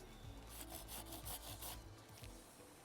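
A hand saw cuts upward into the underside of a tree branch during spring pruning, making quiet, rhythmic rasping strokes of about five quick passes, alone.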